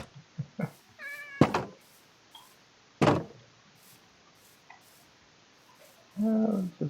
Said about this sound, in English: Cat's stuck in here.